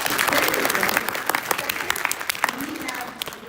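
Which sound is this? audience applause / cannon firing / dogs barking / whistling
audience applause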